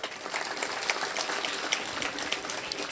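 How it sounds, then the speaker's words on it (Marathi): Audience at a Hanuman temple consecration ceremony applauding, dense continuous clapping from a crowd throughout, fairly close and steady with no voices. "त्यांच्यासाठी एकदा टाळ्या वाजवा जोरात"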